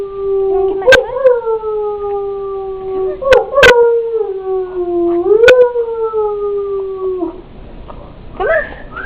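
A puppy lets out three long, drawn-out howls that slide gently downward, mixed with short whimpers and yips, close and loud.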